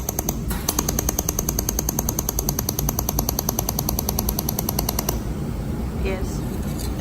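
Laser welding machine pulsing as it welds wire onto a mold, a fast, steady train of sharp repeating clicks lasting about five seconds over a loud mechanical hum, then stopping abruptly.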